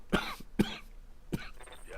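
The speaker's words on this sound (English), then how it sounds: "Pardon the cough." Three sharp, close coughs in quick succession, the last one followed by a rough throat-clearing rasp.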